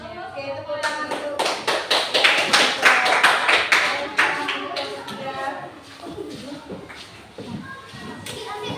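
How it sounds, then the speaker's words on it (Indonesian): A classroom of students applauding together, a burst of brisk clapping that peaks early and then thins out into scattered claps and chatter as children start talking. "Oke, tepuk tangan dulu."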